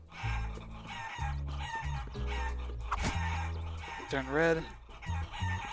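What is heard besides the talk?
chickens clucking in the video game Guacamelee! Super Turbo Championship Edition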